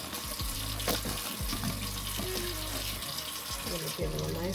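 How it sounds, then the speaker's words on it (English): Cool tap water runs into a sink as lamb chops are rinsed, a steady close splashing flow broken by irregular spatters and thuds as the meat is handled under the stream. "I like to rinse my meat in cool water"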